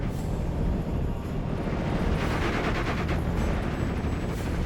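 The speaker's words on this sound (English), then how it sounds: "We're under fire." Dense, continuous gunfire and rumbling battle noise in a World War II Axis combat video game, loud and sustained throughout with no clear pauses.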